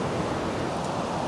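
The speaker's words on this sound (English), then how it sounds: "you can hear the waves like all night long" Ocean waves wash onto a beach at Sidi Mghait, Morocco, as a dense, continuous roar of surf without any voices.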